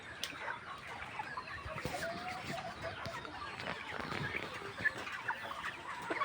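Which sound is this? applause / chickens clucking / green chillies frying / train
chickens clucking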